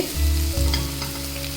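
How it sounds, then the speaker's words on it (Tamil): Vegetables for Arabic vegetable mandi rice fry and are stirred in a pan, with a steady close sizzle and scraping stirring movements. "இப்போ இது வந்து நல்லா ஃப்ரை பண்ணி மிக்ஸ் பண்ணி விட்டாச்சு"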